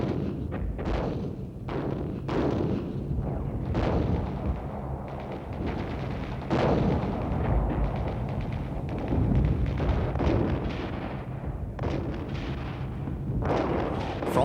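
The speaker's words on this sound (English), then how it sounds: "From the rear, Israeli artillery shelled the most stubborn Syrian strongpoints with pinpoint accuracy." Israeli artillery shelling Syrian strongpoints in Six Day War footage, heard as a continuous roar of heavy booms and thuds, with several sharp blasts standing out over a rumbling battle din.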